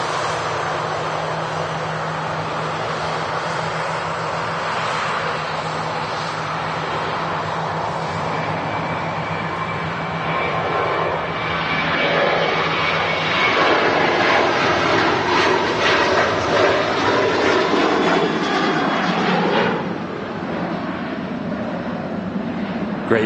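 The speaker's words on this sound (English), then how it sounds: "Just starting its takeoff roll. Here in Manchester is the Ryanair 73, which is on its way down to Faro." A Ryanair Boeing 737 begins its takeoff roll at Manchester Airport, its jet engines a broad, steady roar that swells and rises in pitch over many seconds, heard at a distance outdoors.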